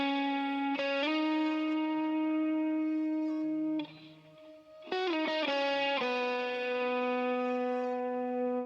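A dark guitar melody run through Guitar Rig fuzz, echo and reverb, with sustained bent notes, a brief gap, then a flurry of plucked notes settling into a long held tone, with no talking.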